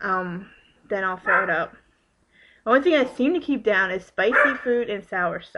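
A dog barks in the background of a home while someone talks steadily over it, with the barking mostly buried beneath her voice.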